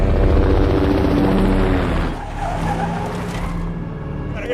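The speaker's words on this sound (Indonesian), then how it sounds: "helikopter pun sudah mulai melakukan pencarian" A helicopter searching from the air in the action film Ambulance thunders loudly and steadily, its rotor roar blended with film score and engine noise, easing slightly partway through.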